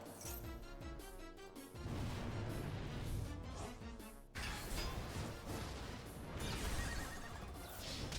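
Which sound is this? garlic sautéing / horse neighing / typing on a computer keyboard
horse neighing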